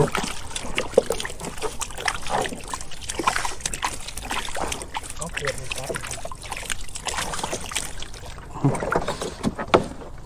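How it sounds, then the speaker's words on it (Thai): Water is scooped and tossed out of a small boat while fishing, splashing and sloshing in repeated scoops, with people talking loudly over it throughout. "วิดน้ำออก"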